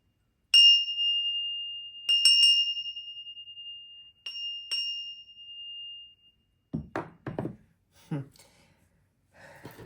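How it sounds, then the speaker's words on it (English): A small bell rings clearly several times, each ring sustaining a pure tone, followed by a few seconds of quiet speech and breaths. "I'm gonna go ahead and ring the bell."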